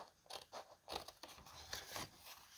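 Scissors cutting out a paper awning in one long continuous cut, with soft, close crunching and scraping snips in quick succession, quiet and without talking.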